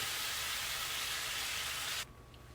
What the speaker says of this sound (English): I'm going to turn the stove down, and I'm just going to let that simmer until it's good and warm